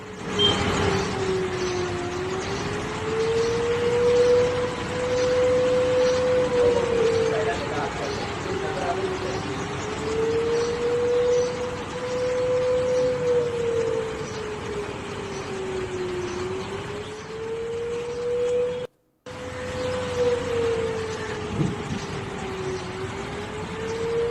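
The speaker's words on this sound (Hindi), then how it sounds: "सायरन है जो इस वक्त इस्लामाबाद के साथ साथ बाकी जगहों पर भी गूंज रहे हैं" A civil defense siren in Islamabad wails steadily in the distance, its pitch slowly rising and falling in long cycles over background noise and indistinct voices.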